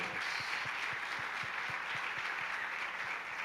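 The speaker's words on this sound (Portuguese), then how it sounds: "Palmas para eles." A church congregation at a couples' night applauds a long-married couple, a steady wash of many hands clapping, distant and even, with a faint regular low thumping underneath.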